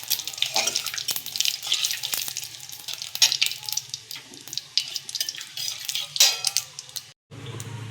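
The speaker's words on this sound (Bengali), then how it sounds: "দিয়ে দেবো মৌরি, গোটা জিরে আর কিছু জোয়ান, গোটা জোয়ান। এগুলোকে দিয়ে ফোড়ন করে নেব।" Fennel, cumin and ajwain seeds sizzle in hot oil for tempering, giving an uneven, spitting crackle with sharp pops over a soft hiss. The sound swells and fades before a sudden cut near the end.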